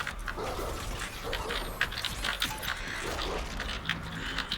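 Marauder's spirit dog in DOOM Eternal: snarls and yips in short bursts, moderately loud, amid constant combat noise and mechanical clatter.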